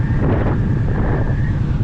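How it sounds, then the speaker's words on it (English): Strong wind buffets the microphone in a constant low roar on the highest road in the U.S., with a faint whistling tone running through the rumble. "you can probably hear how windy it is"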